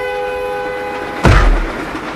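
A train passes close by with a sudden loud rumbling whoosh partway through, following a steady tonal hum.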